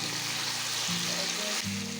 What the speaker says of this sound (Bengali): চিকেনটাকে আমি কষিয়ে নিয়েছি,